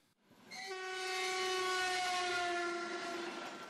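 A train's horn sounds a long, loud, sustained blast that swells in after a quiet start and holds steady, with rail rumble beneath it and no speech.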